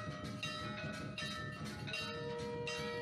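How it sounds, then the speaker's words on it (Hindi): A bell rings on entering a Hindu temple, giving sustained metallic tones with a few repeated strikes that linger steadily, with no voices. "जिसकी शुरुआत होती है मंदिर में प्रवेश करते ही घंटी बजाने से।"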